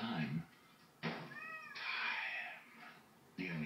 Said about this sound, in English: Why do cats stare when you're pouring milk?